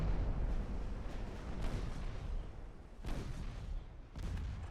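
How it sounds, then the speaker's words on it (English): Ammunition detonation aboard a warship in the naval game Ultimate Admiral Dreadnoughts, a low rumbling of heavy booms with several distinct blasts spread through, distant-sounding and fairly quiet. "it had an ammo detonation. The ammo detonation took the front 2 turrets"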